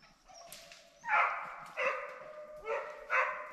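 Hunting dogs bark in the woods while chasing game, a dog yelping in short repeated bursts at a moderate distance, with a few bark clusters spaced roughly a second apart.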